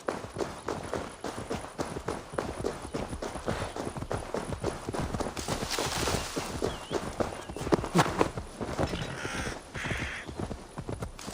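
Rapid, steady hoofbeats clatter throughout, a horse galloping at a constant rhythm with some faint background noise, in Assassin's Creed Valhalla.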